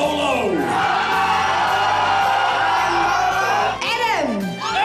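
A loud crowd cheers and whoops, with rising and falling shouts swelling together and a second surge of yells near the end.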